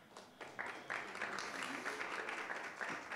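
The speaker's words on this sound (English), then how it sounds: "Please applaud." Soft audience applause at a lecture ceremony builds quickly and holds as a steady patter of clapping, with faint voices beneath it.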